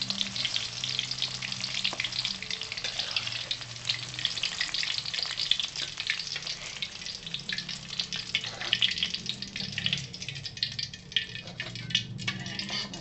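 Shallots and garlic fry in oil in a pan with a steady, close, dense sizzle, punctuated by the occasional scrape of stirring, continuing without pause and with no talking.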